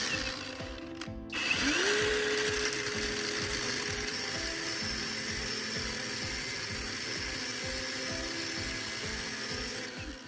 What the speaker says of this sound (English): I will fix a metal bar with a vise and use an angle grinder to grind a small slot